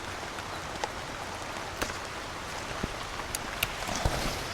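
Steady rain falls outdoors, a dense even hiss with scattered sharper drops tapping on nearby surfaces throughout.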